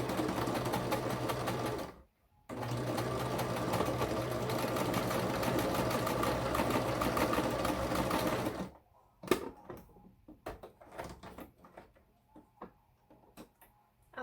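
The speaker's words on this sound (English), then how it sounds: "So just sew your seam." A sewing machine running a seam on a fabric face mask, a loud continuous whirr with a brief stop near the start, then quiet clicks and fabric handling after the machine halts.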